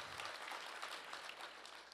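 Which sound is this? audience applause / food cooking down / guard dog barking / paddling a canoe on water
audience applause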